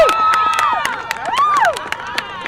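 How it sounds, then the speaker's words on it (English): Parents and spectators at a youth football game screaming, whooping and clapping, with high shouted cheers over a dense crowd roar and sharp scattered claps, loud and close. "the screaming and clapping you'll hear from them is no different than that of any other parents"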